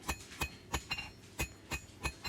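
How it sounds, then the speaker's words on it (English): A blacksmith's hammer strikes hot steel stock on an anvil, sounding about eight evenly spaced ringing blows, close and fairly quiet, while a taper is drawn out for a hand-forged sign hanger. "Swinging the hammer in the same spot and moving the stock under"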